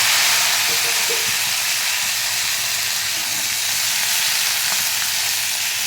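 Peanut chutney ingredients, green chillies among them, fry in a hot pan with a steady, dense sizzle and hiss that runs unbroken and fairly loud the whole time, with no talking.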